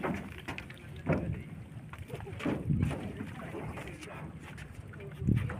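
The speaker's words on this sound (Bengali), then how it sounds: "এখন আমরা এই ট্রলারে উঠে আবার আমাদের আমরা ওই পার যাচ্ছি" A trawler boat crosses the Padma river, its steady rumble carried under gusting wind buffeting the microphone, with muffled bumps and indistinct voices now and then.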